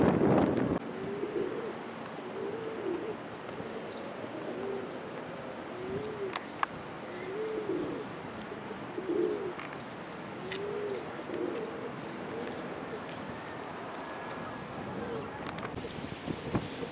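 Pigeons coo repeatedly on a rooftop, a steady run of soft rolling calls at moderate distance over outdoor wind noise, with no talking.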